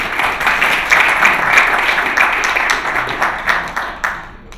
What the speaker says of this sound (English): a round of applause to the panelists for that